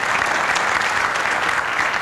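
Dense, steady applause from an audience at a CHP party advisory council meeting in Balıkesir, loud and continuous for a couple of seconds.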